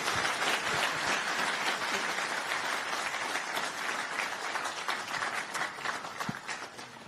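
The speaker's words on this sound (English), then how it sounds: "big round of applause" A university audience applauds at a public talk, dense sustained clapping from a large crowd that fills the room, loud at first and gradually thinning toward the end.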